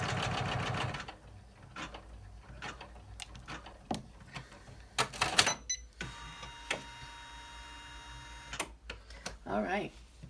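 An embroidery machine stitching an in-the-hoop card case, giving rapid mechanical ticking bursts and a whirring run broken by pauses and clicks, close and moderately loud with no clear talk.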